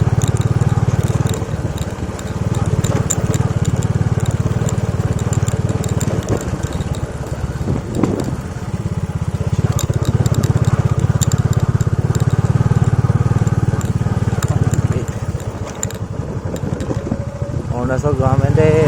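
Motorcycle ridden along a rough, unpaved mountain road in Arunachal Pradesh, its engine droning steadily and loud throughout with a low rumbling tone, swelling and easing slightly as it moves, while a voice talks over it.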